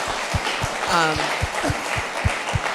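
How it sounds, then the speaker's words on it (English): Audience applause at a Royal Academy symposium, a dense patter of clapping that carries on beneath a speaking voice, with a few heavier low thumps recurring through it. "Everyone should give her another round of applause, I feel, for such an incredible presentation."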